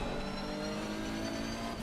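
Race car engine in the ACC sim racing game at Spa, a loud, steady high-revving drone with rising harmonic whine held throughout, no voices over it.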